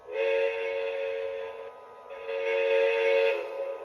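A Lionel LionChief Walt Disney World 50th Anniversary Express toy train whistle sounds twice in long steady blasts, bright and close, with a brief pause between them and no talking.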